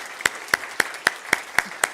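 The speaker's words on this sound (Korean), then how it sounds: "박수하겠습니다." A church congregation clapping in rhythm at a Sunday service, seven sharp, evenly spaced claps ringing out in a steady beat.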